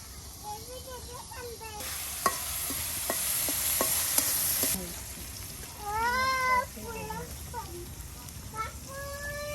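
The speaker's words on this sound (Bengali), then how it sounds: "এই যে সুন্দর করে দেখুন পেঁয়াজ মরিচ তেলের সাথে একদম ভেজে নেওয়া হচ্ছে" Onions and dried chillies frying in oil over a village cooking fire on a winter morning: a loud burst of hissing sizzle with stirring clatter, then quieter bubbling, while voices talk nearby.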